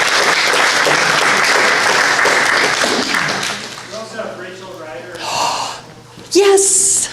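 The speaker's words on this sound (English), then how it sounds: "They all deserve a round of applause in appreciation for their work and participation." Applause from a community forum audience in Valemount, thanking Community Forest participants: dense clapping fills the first three seconds, then fades out as a voice and scattered murmurs take over, with a brief burst of noise near the end.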